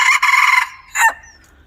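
A rooster crows once, loud and close, in a drawn-out call with a brief break before a final rising burst, then fades into quiet.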